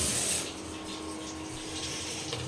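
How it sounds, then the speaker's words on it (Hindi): Steady running tap water splashing as a spoon is rinsed in a kitchen while chutney is made, a close continuous gush with no speech. "तो उसको भी चम्मच थोड़ा सा धो देते हैं।"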